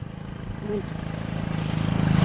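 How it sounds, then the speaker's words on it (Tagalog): A motorcycle passes along a rural roadside near a fruit tree, its low engine drone building steadily louder through the moment as it approaches, with no talk over it. "May motor na dumadaan"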